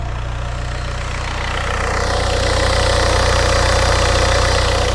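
A 2002 VW diesel engine, running after fuel line and glow plug work, clatters loudly and steadily with a rhythmic knocking idle that builds a little in intensity, nearby and without speech.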